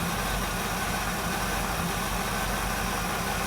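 A '57 Chevrolet Bel Air restomod with a carburetor engine idles rough and low below 500 RPM, giving a steady, close, unbroken rumble throughout, with no voices.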